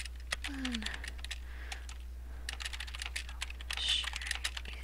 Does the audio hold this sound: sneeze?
no